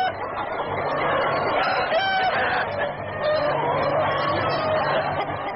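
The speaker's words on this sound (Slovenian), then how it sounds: "Ovdje se karijera pravi kukurikanjem i kokodakanjem." Dense, continuous clucking from many hens in a breeding-egg poultry farm house, with roosters crowing through the din, loud and close.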